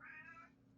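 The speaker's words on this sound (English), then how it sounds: "We call her the smoker cat because she sounded hoarse ever since she was a kitten" A single hoarse, raspy meow from a female cat, brief and close, starting strong and trailing off rough and cranky-sounding.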